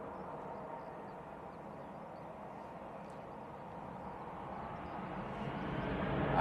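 A Jet2 airliner departs Manchester Airport, a broad distant engine roar holding steady and then swelling louder toward the end, with no talk over it.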